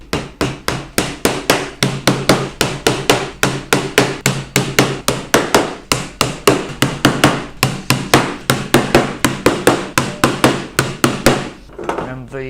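Steady, rapid hammer blows drive 1.5 inch lost-head nails into a wooden nucleus beehive roof, dozens of sharp close strikes in an even rhythm with short pauses, ending in a few lighter taps.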